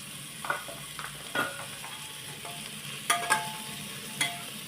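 Tomato sautéing in a pan with turmeric and salt, a soft steady sizzle broken by a few sharp scraping stirs of a spoon against the pan, close and fairly quiet.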